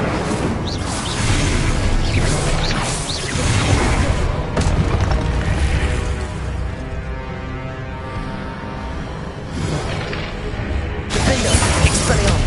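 Incendio fire spell cast in Hogwarts Legacy combat: a loud, sustained burst of crackling, roaring blast noise with shattering and booming impacts, dipping briefly mid-way before another sharp surge near the end.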